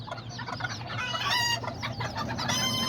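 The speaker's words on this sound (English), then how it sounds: "I got this mom chicken with those little baby ones." Hens cluck continuously in a farm cage area with a mother hen and chicks, while roosters crow over them, a dense, close, busy chorus of overlapping calls.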